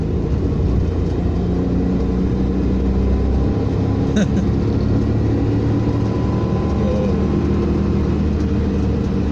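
Inside a Suzuki Jimny 660cc SUV on a clear road, the small engine drones steadily under heavy road and wind rumble while accelerating, with the low noise dense and constant throughout.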